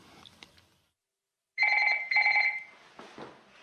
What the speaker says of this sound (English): Another phone call came through from base camp